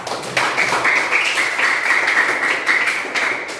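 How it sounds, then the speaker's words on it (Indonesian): Classroom of students applauding after presentations, a dense continuous patter of clapping from a group indoors, fairly loud and close, lasting throughout with no talk over it. "Tepuk tangan dulu untuk kita semua"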